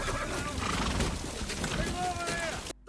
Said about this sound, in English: That's a horse dying.